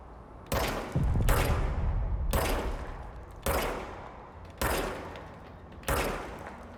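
Gunshots in the video game Control, fired by a player-held weapon: five or six loud, sharp blasts spaced about a second apart, each with a short echoing tail, and a quick double shot near the start.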